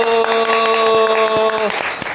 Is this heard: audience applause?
yes